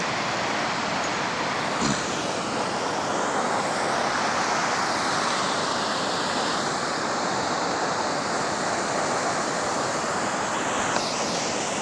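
Loud, steady rush of a waterfall on a cold-water creek, a continuous broadband roar filling the whole stretch with no pauses.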